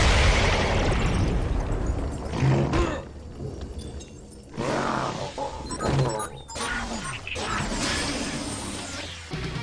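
Loud booming nuclear blasts with roaring, crashing bursts, several in a row with brief dips between, heavy and close.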